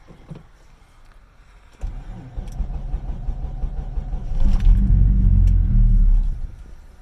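A 1997 Mitsubishi 3000GT VR-4 with a single PTE6870 turbo cold-starts after a quiet lead-in, its engine catching into a loud, steady low rumble that swells louder near the end before easing off, heard close up.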